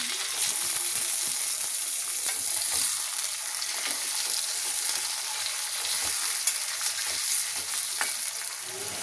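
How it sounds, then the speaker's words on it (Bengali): Potatoes fry with onion and garlic in a pan, giving a loud, continuous sizzle with scattered crackles and occasional stirring scrapes, heard alone without talk. "দেখো আলুটাও কিন্তু ভাজা ভাজা হয়ে গেছে।"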